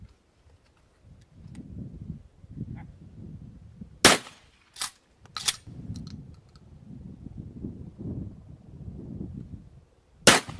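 Sharp gunshots ring out at a public outdoor shooting range, one loud report followed by a few more spaced cracks and a final shot, with a low rumble between them.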